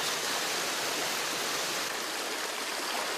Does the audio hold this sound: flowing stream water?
yes